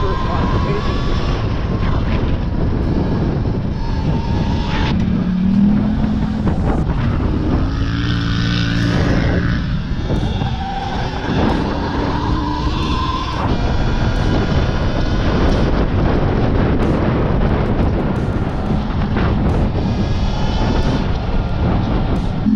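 Talaria electric supermoto bike with new dirt tires riding along, a continuous loud rush of wind buffeting over the microphone with a faint motor whine and tire hum underneath, and a voice speaking intermittently through it.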